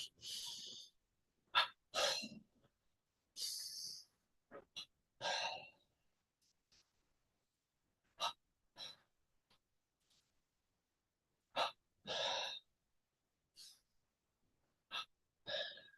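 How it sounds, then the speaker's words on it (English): Rhythmic paired breaths drawn and expelled sharply during a double breathing exercise with palms touching, in short bursts separated by silent pauses across a yoga-style session. "First exercise, double breathing, palms touching."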